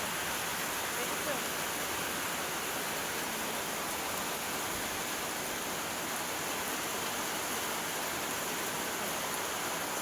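Heavy rain pours steadily on a rooftop, a dense, unbroken roar of falling water at constant loudness from start to finish with no variation.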